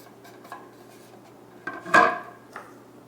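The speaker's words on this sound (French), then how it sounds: "on va mélanger tous les ingrédients secs dans un grand bol" Flour is tipped into a large bowl of dry ingredients for bread, with soft scraping, a clink of utensil against the bowl and one louder knock, close and otherwise quiet with no talking.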